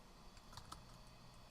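A few quiet computer keyboard keystrokes clicking faintly and sparsely against a steady low background hum, no voices present.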